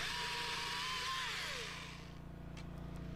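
A chainsaw runs steadily at high revs while cutting a Chinese pistache tree branch, its engine tone sliding lower partway through as the chain bites and then settling into a lower idle-like drone, loud and close.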